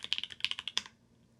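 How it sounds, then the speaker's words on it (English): Rapid, crisp clicks of keys being typed on a computer keyboard, close up, in a quick irregular burst that stops abruptly. "let's do a typing test"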